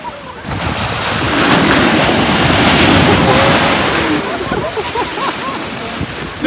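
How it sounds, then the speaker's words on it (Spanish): Ocean waves crash on the shore in a loud, swelling surge and wash, with wind buffeting the microphone and people shouting and talking excitedly over it. "qué olas!"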